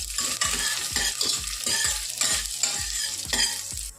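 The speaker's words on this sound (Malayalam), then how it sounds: "ഇനി അതിനെ നമുക്കൊന്ന് മൂപ്പിച്ചെടുക്കണം." Ginger sizzles in a pan while a utensil stirs it in quick rhythmic scrapes and taps, several per second, over a continuous frying hiss.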